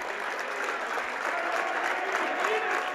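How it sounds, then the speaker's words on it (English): Crowd applause swells steadily for a standing ovation in a high school girls' basketball gym during a Hazen versus Oxbow game, sustained and fairly distant with no voices standing out. "Getting a standing O from her crowd"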